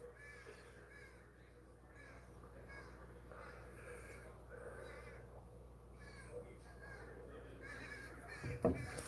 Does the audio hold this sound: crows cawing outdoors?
yes